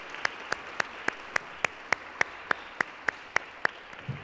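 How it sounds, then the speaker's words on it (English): At a Czech-Israeli innovation forum, a faint, evenly spaced run of about fourteen single claps sounds in a slow, regular rhythm against a quiet room. "I ask you to give a big round of applause to our presenters."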